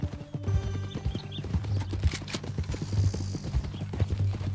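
Horse hooves clop in a steady rhythmic gait in the Red Dead Redemption 2 video game, close and clear, with faint rattling tack and background ambience.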